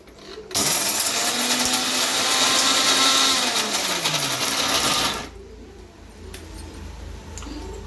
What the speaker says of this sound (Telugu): మిక్సీ కాడించుకోవాలి.